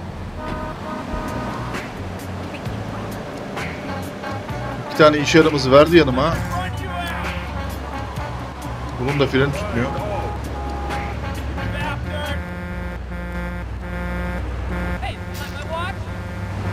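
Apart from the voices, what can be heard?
car horn honking in video game Grand Theft Auto 3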